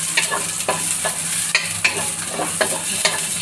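Onion and garlic sauté in a pan, a close hiss of frying broken by repeated scraping strokes of a spatula every half second or so, with no voices.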